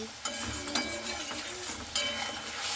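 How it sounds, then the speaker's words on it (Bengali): Spice paste with sour yogurt being stirred and fried in a pan for a soybean curry, a continuous sizzle with a spoon scraping and clinking against the metal, steady and close. "এরপরে টক দইটা দিয়ে খুব ভালো করে আবারও মশলাটাকে আমি এভাবে কষে নিচ্ছি"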